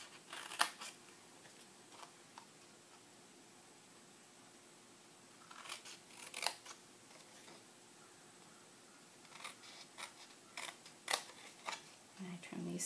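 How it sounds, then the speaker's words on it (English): Scissors snip along the score lines of a paper craft piece to form tabs, giving quiet, sparse clusters of crisp cuts with pauses between them. "Then you need to trim on the score lines to form tabs."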